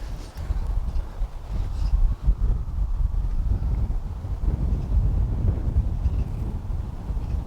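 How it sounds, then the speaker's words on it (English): Wind gusting across an open golf course, a steady low rumble buffeting the microphone throughout with no let-up, loud and close. "And there's a bit of wind."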